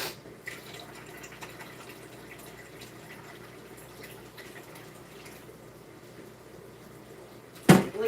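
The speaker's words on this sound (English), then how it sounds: "And I'm going to fill it up with water." Water trickles steadily from a tap under low pressure into a big can, a soft continuous running and dripping for several seconds that ends in a sudden loud clunk.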